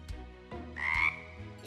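A single frog croak in a Cry Babies Magic Tears cartoon, a brief raspy call swelling and fading over soft background sounds, with no talking.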